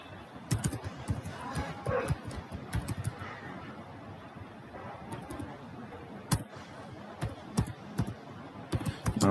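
Typing on a computer keyboard while entering SQL code, with rapid, uneven clusters of close key clacks and a few louder strikes, with a faint voice underneath.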